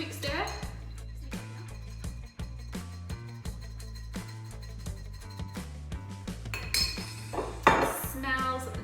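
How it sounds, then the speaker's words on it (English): A spoon stirs a hot toddy of honey, lemon and hot water in a glass, giving light repeated clinks against the glass beneath steady background music. "So I'm going to give this a quick stir."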